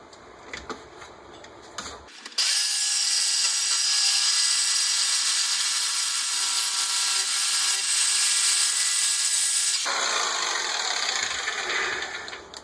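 A power tool cuts through a clamped generator exhaust pipe, starting abruptly after faint handling noises and holding a loud, even, high-pitched whine for about seven seconds before stopping.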